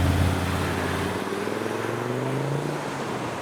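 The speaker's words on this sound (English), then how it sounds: "the Audi Quattro, leaving with some 5-cylinder noises" An Audi Quattro's five-cylinder engine pulls away from a car meet, a moderately loud, warbling drone with rising harmonics that steadily recedes into the distance.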